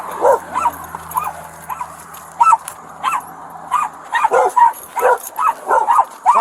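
A dog at a police bodycam scene barks and yips repeatedly in short bursts, interspersed with whimpers, loud and close, with the rhythm quickening toward the end.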